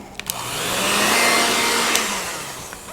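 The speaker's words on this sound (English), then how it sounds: "get a hairdryer and just go over it, hit it with a little bit of heat" A hair dryer blows a steady broadband rush of air and motor whine for about three seconds, swelling slightly in the middle, used to heat vinyl on ceramic pottery, heard alone and fairly close.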